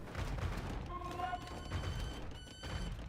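Cannon fire and its impacts in Age of Empires II, with mechanical clanks and muffled booms of battle under someone talking, moderately loud over about three seconds.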